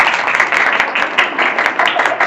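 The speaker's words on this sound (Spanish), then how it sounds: "Le damos un aplauso a toda esta familia de trabajadores." Brief burst of audience applause at a school science fair, many hands clapping together steadily for a couple of seconds with some crowd murmur mixed in.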